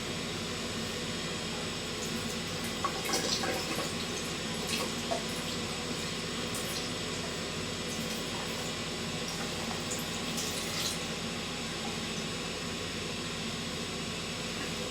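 Water is drained from soaked raisins, giving a steady, even pouring hiss with faint splashes and drips that holds for about fifteen seconds and is heard alone.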